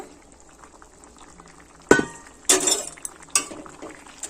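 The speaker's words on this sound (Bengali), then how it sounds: "তরকারি ফুটে উঠেছে ভেজে রাখা মাছ দিয়ে দেব" Fish curry boils in a pan, and pieces of fried fish are dropped into it. A few sharp splashes and clinks break through a soft, low bubbling, close by, with no talk.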